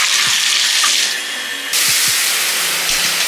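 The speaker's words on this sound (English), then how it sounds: "we're gonna take a shower now and get ready for bed." Shower water running in a home bathroom at night, a loud continuous hiss of spray with a few faint knocks and shifts in the flow, no talking.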